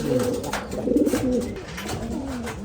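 Pigeons coo steadily at a farm housing more than five hundred birds, their low, rolling calls overlapping in a continuous close chorus with no talking.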